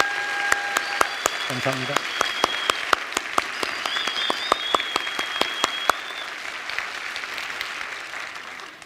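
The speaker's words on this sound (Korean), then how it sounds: "우리 세계로 교회 모든 성도들을 위해서 우리 기도 박수 한번 치겠습니다" A church congregation at a Sunday worship service claps together in sustained, dense applause with sharp individual claps standing out, while a voice speaks briefly over it.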